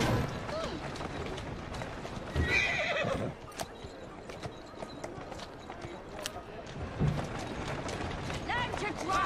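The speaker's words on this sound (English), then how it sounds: "Who's a good horse?" Clopping horse hooves and a loud whinny from the video game Assassin's Creed Syndicate mix with mechanical clatter, while a person talks over the scene.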